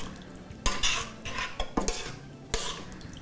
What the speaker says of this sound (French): Mélanger encore.